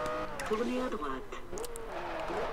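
A car engine drones and shifts pitch while being driven in the racing game Forza Horizon, heard steadily at moderate level beneath someone talking over it.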